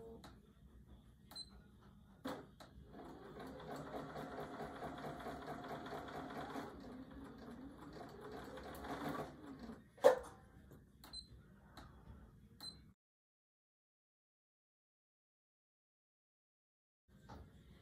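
A sewing machine stitches quilt blocks of Accuquilt-cut fabric pieces, running in a steady, close whirring hum for several seconds with a few clicks and thumps around it, then stopping and leaving near silence.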